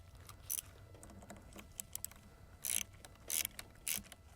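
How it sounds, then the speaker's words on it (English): Set screws are tightened on a camper jack head, heard as a quiet series of small metallic ratcheting clicks. A few sharper bursts cluster near the end, all up close with no talking. "all I need to do is tighten these set screws"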